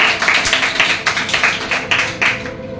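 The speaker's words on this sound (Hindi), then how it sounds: "भाई एक बार ताली बजाइए इनके लिए।" Classroom applause for a student in a maths lesson: a couple of seconds of loud, close, fairly steady clapping from a group, with no talk over it.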